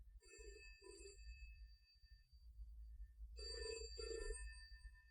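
An old-style telephone bell rings in a radio drama, two short double bursts separated by a pause, fairly faint over a low room hum.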